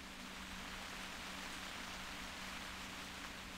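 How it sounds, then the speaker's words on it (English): Steady, even rain hiss in the video game theHunter Classic fills the clip, a constant broadband wash with a low hum underneath and no voices. "It starts to rain."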